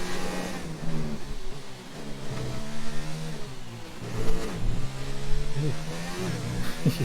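An F1 race car engine in a racing video game revs and shifts through gears, rising and falling whines over several seconds, loud and continuous beneath occasional talk.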